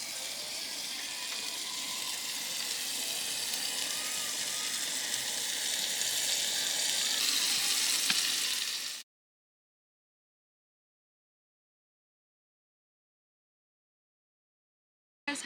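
Food frying in a pan at a creekside camp gives a steady, bright sizzle that runs unbroken for about nine seconds, then cuts abruptly to silence.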